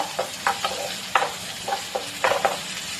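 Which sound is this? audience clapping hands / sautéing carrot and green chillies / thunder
sautéing carrot and green chillies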